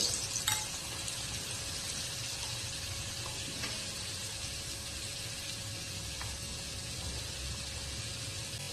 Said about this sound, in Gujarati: છેલ્લું પણ ફ્રાય કરી લઈએ